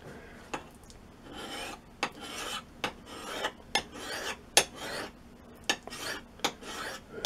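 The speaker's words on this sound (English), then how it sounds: "And just move the stone along, just sharpening that very edge that goes to a point." A sharpening stone rasps along the blade edge of grass clippers in a series of about a dozen short, scraping strokes at an uneven, unhurried pace, close and fairly quiet.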